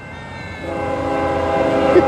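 Norfolk Southern freight train led by ES44AC and SD60E locomotives sounds a loud, sustained chord horn as it approaches, building steadily over low rumbling.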